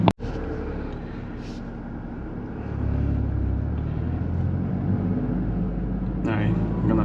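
Toyota GR Corolla engine fitted with a K&N intake, a low steady engine rumble that swells slightly partway through, with a sharp click at the start and a voice talking over it.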